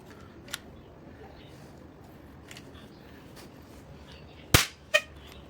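Against a quiet room background, a single sharp shot from a pump air gun, pumped six times, cracks out through a chronograph near the end, followed by a softer click.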